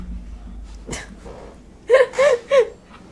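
A person sneezes, with a quick intake of breath before it, followed by three short, voiced bursts of laughing or gasping.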